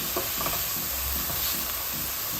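Curried chickpeas sizzle in a hot pan under a steady hiss, with soft rhythmic scraping as a utensil stirs them about every third of a second, close and moderately quiet.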